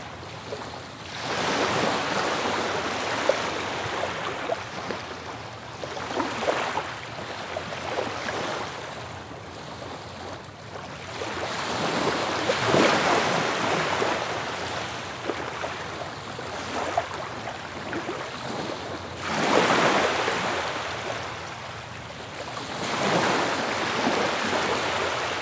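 Ocean waves wash onto a sandy beach in slow, recurring surges, each swell building to a loud rushing crash and then receding into a softer hiss, with no voices.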